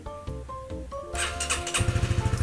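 A stock-exhaust 2020 Honda CB150R motorcycle cranks with a whirring starter, fires on the first try and settles into a close, steady, throbbing idle.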